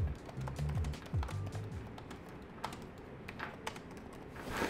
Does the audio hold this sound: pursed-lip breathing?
no